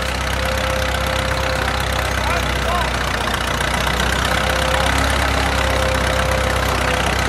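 An antique farm tractor at an outdoor farm show idles loudly and steadily, its engine drone constant and close with a faint tonal hum running through it.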